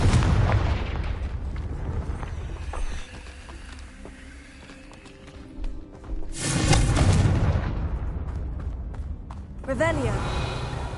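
A Confringo spell goes off in Hogwarts Legacy with a loud booming blast and rumbling crackle, followed later by a second shorter burst, with a voice speaking over the game sounds.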